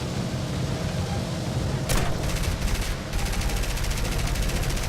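Aircraft guns strafing ground targets in War Thunder, a steady rattling burst of rapid fire with engine drone underneath, denser and louder stretches breaking in partway through.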